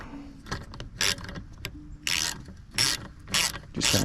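A ratchet turns a 10mm socket on a bolt in several quick, close bursts of loud clicking, separated by short pauses.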